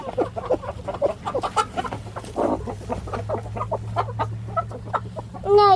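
A hen clucks close by in a run of short, choppy calls over a low steady hum, with a brief rustle midway and a rising squawk at the end.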